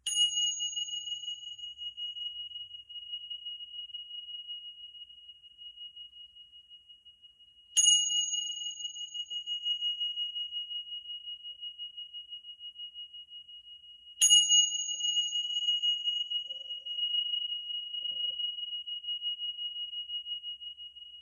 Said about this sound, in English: let's ring the bell for possibilities